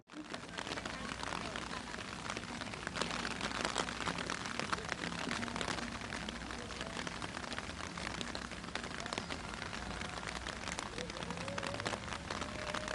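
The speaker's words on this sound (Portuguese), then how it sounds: "Só a chuva se fazia ouvir" Rain falling steadily at the atomic bomb park in Nagasaki, a continuous dense patter on surfaces at moderate level, with faint voices in the background.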